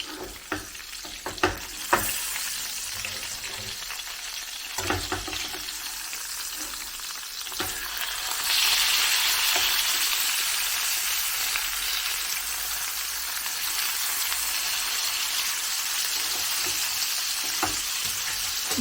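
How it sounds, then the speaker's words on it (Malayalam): Fish wrapped in banana leaf roasts in a pan, giving a steady, close frying sizzle throughout with a few sharp crackles and stirring knocks early on, then a louder, denser hiss from the middle onward, with no talking. "ഇപ്പം നമ്മുടെ മീൻ വാഴയില വെച്ച് റോസ്റ്റ് ചെയ്ത് എടുത്ത് വെച്ചിട്ടുണ്ട്"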